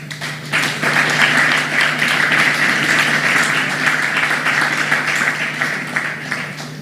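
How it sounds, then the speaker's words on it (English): A steady round of applause from an audience at a Black Sea security forum in Odesa, dense and even for several seconds, tapering slightly at the end. "Give them a great big hand of applause"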